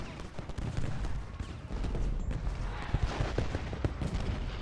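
Dense musket volleys from a Civil War battle at Culp's Hill and Cemetery Hill in the Ultimate General Gettysburg strategy game, continuous crackling fire with heavy low rumble and scattered sharper reports, steady throughout without speech.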